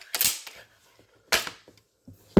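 An EK Archery RX Cobra Adder repeating crossbow fires bolts, giving three sharp, loud snaps spaced about a second apart, each with a brief mechanical rattle afterward, with no talk.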